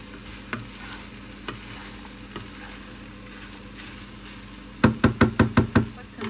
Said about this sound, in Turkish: Soğan ve sarımsağı eklemiştim. Şimdi biberleri de ekleyelim.